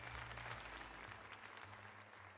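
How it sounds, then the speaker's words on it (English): In the Pokemon Legends ZA video game, a crowd claps in a steady round of applause that stays fairly even for a couple of seconds, quiet overall, with no talking. "let us give another heartfelt round of applause to Renee."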